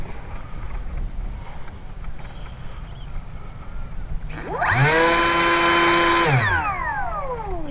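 On the ground, the electric motor of an RC F-18 jet spools up from quiet to a loud, rising whine, holds it for a couple of seconds, then winds back down, close and alone.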